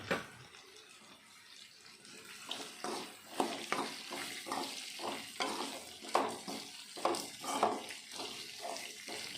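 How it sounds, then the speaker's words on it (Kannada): Cut capsicum fries in a pan for capsicum vangi bath, with a soft sizzle and repeated scraping stirs of a spatula, quiet and close, no voices. "ನಂತರ ನಾವು ಕಟ್ ಮಾಡಿ ಇಟ್ಕೊಂಡಿರೋ ಕ್ಯಾಪ್ಸಿಕಮ್ ಹಾಕಿ ಫ್ರೈ ಮಾಡ್ಕೊಬೇಕಾಗುತ್ತೆ."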